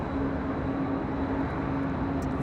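A Boeing 737 MAX 9 jet airliner at LAX gives a steady, loud engine roar with a constant tonal whine, heard continuously without talk.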